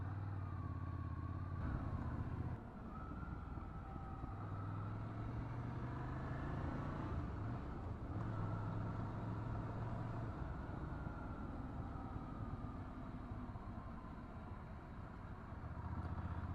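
A Ducati Scrambler motorcycle riding twisty back roads, its engine a steady, moderately distant drone with slight revving shifts and wind rush, no talk.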